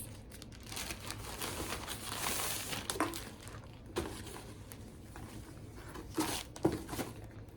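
A plastic shipping bag of clothing from an online order crinkles and rustles softly as it is opened, with a few sharper tearing crackles scattered through the quiet handling.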